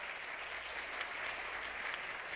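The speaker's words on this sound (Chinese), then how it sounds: "来拍手，谢谢他" Steady applause from a church congregation at an anniversary thanksgiving service, even and continuous from start to finish, with no voices over it.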